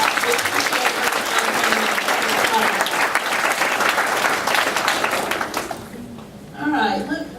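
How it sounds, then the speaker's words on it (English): An audience at a master's of social work orientation breaks into loud, sustained applause that fills most of the clip, then dies away, followed by a brief spoken voice. "let's give her a big round of applause"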